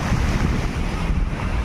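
Sea waves crashing forcefully onto the shore at Marina beach in Chennai, a loud continuous roar of surf mixed with wind buffeting the microphone, with no talk.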